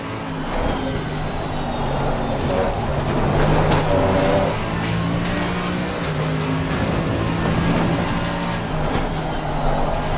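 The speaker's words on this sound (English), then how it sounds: "I like the way this car sounds too." A racing car engine in the PS5 game Assetto Corsa Competizione at Brands Hatch drones steadily and loudly throughout, its pitch rising and falling as it revs, with no voices.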